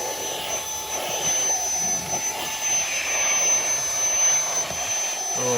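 A tiny handheld vacuum cleaner sucks up leaves, little stones and crumbs from floor cracks indoors, a steady high-pitched whine with airy rushing that swells slightly as debris is pulled in, close and continuous.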